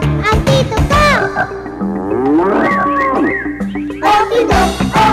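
Cattle mooing as part of a farm-animal sequence among cows, chickens and horses, loud, drawn-out calls with strong harmonic tones, several in succession over about five seconds, with no talking.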